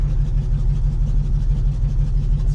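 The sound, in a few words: 1971 Dodge Coronet engine idling after stalling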